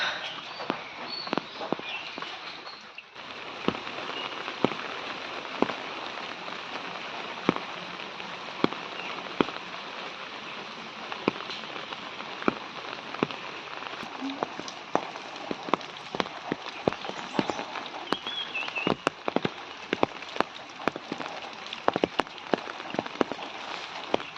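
Steady rain pours down outdoors around a rural home with a cowshed, a dense continuous patter with scattered sharper drops striking nearby surfaces, holding an even loudness throughout with no voices.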